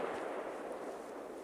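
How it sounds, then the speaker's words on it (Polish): A Weco Gold firework rocket launches with a loud, rushing burst that fades slightly but stays steady through its short duration. "odpalamy rakietę, Gold rakietę od Weko"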